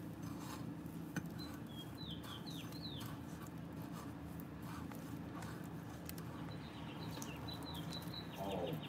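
Birds chirping outdoors, faint short tweets in scattered clusters over a quiet background hum, heard at a distance with no voices.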